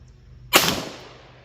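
A single sharp gunshot from a Ruger GP100 10mm revolver cracks at close range, its broadband blast followed by a decaying echo over the next second.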